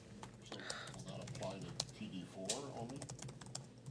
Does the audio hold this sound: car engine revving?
no